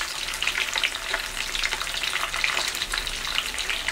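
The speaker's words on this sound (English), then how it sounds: "And the last fish I fry." Fish frying in hot oil at a fishermen's outdoor cooking spot, a steady close crackling sizzle with bursts of spattering, loud and continuous with no talk.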